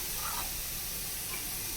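Potatoes and spices fry in a pan with a steady, close sizzle that hisses evenly throughout, with no voices over it.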